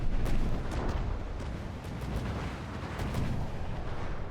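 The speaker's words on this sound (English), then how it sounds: "there we actually had the first round of missiles coming in here" Missiles slam into a target in the naval combat game From the Depths, a dense, continuous rumble of blasts and crackling impacts with sharper bursts scattered throughout, loud and sustained with no talking.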